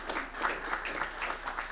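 Soft, distant applause from an audience at a university history association event, with continuous light clapping that stays faint throughout the short stretch.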